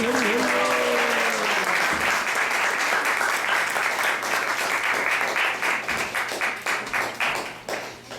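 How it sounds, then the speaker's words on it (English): An audience at a temple celebration breaks into sustained applause, dense and loud at first and thinning toward the end, with a few voices underneath. "So let's give a round of applause for his wonderful seva."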